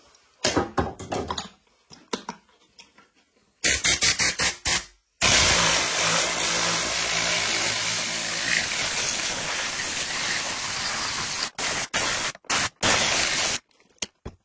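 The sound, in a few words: tornado-style air cleaning gun spraying degreaser on motorbike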